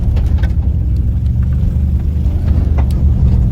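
A car engine drones under load while driving, a loud, steady low rumble holding without break, no voices over it.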